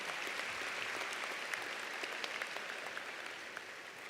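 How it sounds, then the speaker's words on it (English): Steady applause fills a commencement ceremony for Daytona State College's 2025 graduating class, a dense, even patter of many hands sustained throughout without a break. "Let's give them a round of applause"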